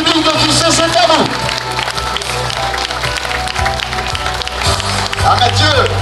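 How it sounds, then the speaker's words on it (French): A crowd applauds cyclists on the podium at a stage finish of the 2012 Tour d'Auvergne cycling race, a steady wash of clapping that continues under constant, loud commentary. "Les applaudissements du public de QC, c'est à vous."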